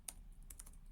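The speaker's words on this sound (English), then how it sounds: "I type" Brief burst of typing on a computer keyboard, a few quick, light key clicks close by and fairly quiet, with no voice.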